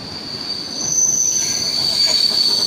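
An electric commuter train at Lianozovo platform in Moscow on an autumn day lets out a steady, piercing wheel squeal that grows louder and closer over a continuous rumbling rail noise.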